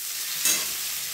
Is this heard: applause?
no